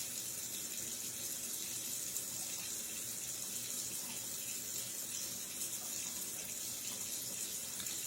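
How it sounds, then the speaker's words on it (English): Kitchen tap runs steadily as water heats up for hand washing, a constant close hiss and splash into the sink with no breaks or voices. "I'm gonna go ahead and let my water be heating up so I can give my hands a wash."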